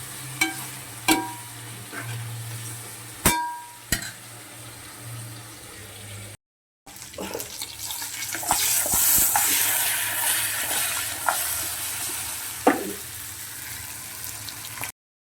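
Chicken frying in oil for a biryani gravy: a few sharp clinks of a utensil against the pan at first, then a steady, fairly loud sizzle with scattered crackles running to the end.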